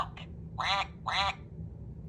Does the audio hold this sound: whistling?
no